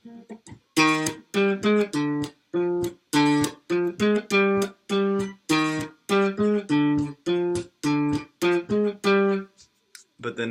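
Guitar plays only the bass notes of a kompa rhythm, short punchy plucked notes in a bouncy repeating pattern with brief gaps between them, close and alone.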